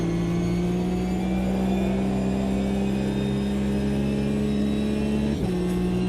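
A Porsche racing car engine in the Automobilista 2 sim racing game holds a steady high-pitched drone at constant revs, with a brief dip and shift near the end as it eases into a corner, loud and alone.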